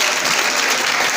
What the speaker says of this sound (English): another big round of applause for them